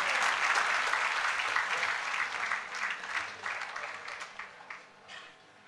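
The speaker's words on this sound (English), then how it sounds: "Can we have a huge round of applause for Ajeet Khurana?" A seated audience at a startup talk gives a speaker a round of applause, full clapping at first that thins out and fades over several seconds into scattered final claps.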